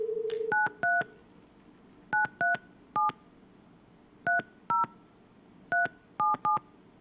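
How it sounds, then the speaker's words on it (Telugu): Touch-tone keypad beeps as a phone number is dialed, short clear tones in quick clusters of two or three with pauses between, loud and close against a quiet line. "ఆయనకి ఫోన్ కలుపుతుంది బిగ్ టీవీ. ఎస్, రింగ్ అవుతుంది."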